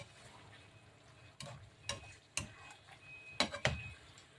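Igado, the Ilocano pork and liver dish, is stirred in a pan: a soft low sizzle runs under a few sharp clicks and scrapes of a spoon against the metal, spaced irregularly, close by and fairly quiet.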